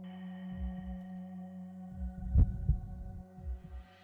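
Heartbeat sound effect from the visual novel game Chaos;Child, a few deep thumping double beats pulsing over a steady electronic hum, with one louder, sharper pair in the middle.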